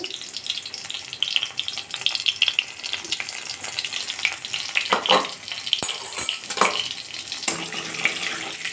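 Spices sizzle in a pan over a low gas flame while cooking mouri potol, a steady crackling fry with a few stirring clatters and scrapes near the middle.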